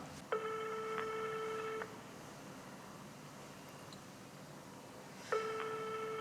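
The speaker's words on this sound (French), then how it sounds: "Donc je vais lui redonner un coup de téléphone, encore une fois." A phone rings out twice through the earpiece, two long tonal rings separated by several seconds of quiet line hiss, with no answer.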